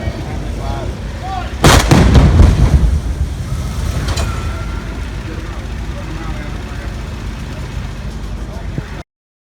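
A loud explosion set off on the set of an action movie booms suddenly and close, then rumbles down into a long fading tail as crew voices carry on in the background.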